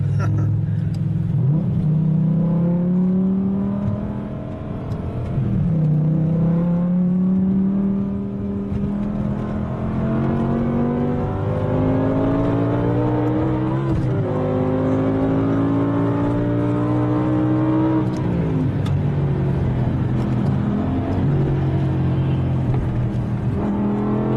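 A Dinan stroker BMW M6 with a normally aspirated V10 accelerating on a track, heard from inside as a loud, sustained engine whine rising repeatedly through the gears, with brief dips at shifts over the full length.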